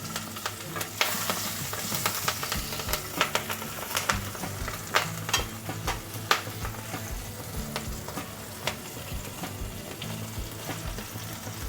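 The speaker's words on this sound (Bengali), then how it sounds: "এক চিমটি মতো জিরে ফোড়ন দিচ্ছি আর দিয়ে দেবো কাঁচা লঙ্কা কোচানোটা" Cumin seeds, bay leaf and slit green chillies temper in hot oil for a Bengali tel koi, crackling and sizzling loudly up close with frequent sharp pops and stirring scrapes.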